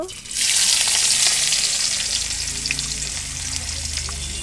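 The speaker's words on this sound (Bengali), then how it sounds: "এরপরে তেলের মধ্যে পেঁয়াজ দেব।" Chopped onion dropped into hot oil in a pan just after fried potatoes are removed, bursting into a loud, steady sizzle that holds for several seconds with occasional stirring scrapes, close up and without voices.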